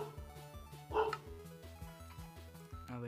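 A dog barks in a video game, a series of regular harmonic bow-wow yaps repeating at a steady pace, fairly quiet, with a brief louder burst near the middle.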